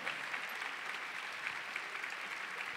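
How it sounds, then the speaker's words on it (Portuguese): Faint, steady congregation applause during a Catholic Mass for Our Lady of Sorrows, many hands clapping at a distance, with no talk over it. "Aplauda essa verdade, é a nossa libertação."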